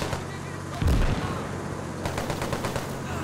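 Rifle and machine-gun fire in the World War II game Gates of Hell during a Chinese army assault up a hill, a heavy close burst followed by rapid crackling volleys under continuous battlefield rumble.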